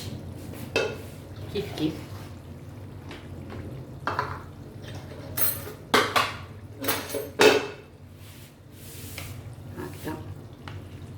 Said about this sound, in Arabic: هاي من بعد ما رميت البصل وتجمر، نزيدو الطوماطيش